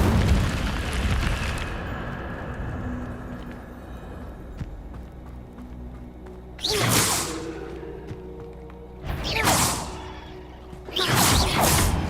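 Incendio fire spell in the Hogwarts Legacy video game, three loud whooshing fiery bursts spaced a few seconds apart after a quieter stretch of low rumble.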